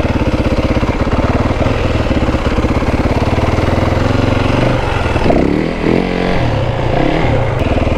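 Motorcycle engine revving hard and pulsing steadily while doing wheelies on a neighborhood ride, loud and close, with a brief dip and surge partway through.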